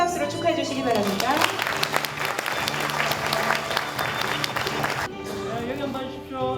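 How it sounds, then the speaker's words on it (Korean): Audience applause after the signing of a cooperation agreement at a Cheongsong County regional meeting in Gyeongbuk, a steady crowd of clapping under background music that stops near the end, leaving quieter room sound. "큰 박수로 축하해 주시기 바랍니다"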